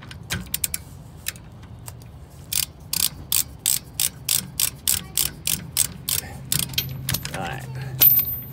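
Ratchet wrench clicking in quick, regular bursts while removing the rear shock absorber bolts on a 2013 LML 3500 diesel truck, close and crisp, with a few metallic clinks between runs.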